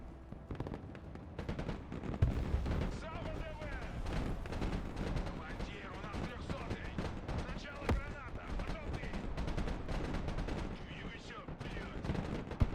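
Artillery and gunfire from the Broken Arrow military strategy game, a dense continuous barrage of booms and rapid shots with loud bursts throughout, mixed with game voices.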